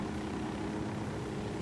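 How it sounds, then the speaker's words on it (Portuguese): A drone flies in the video game Ghost Recon Wildlands, giving a steady, faint propeller whir with a low engine hum that holds evenly throughout, with no voices over it. "Deixa eu soltar o drone, pera aí."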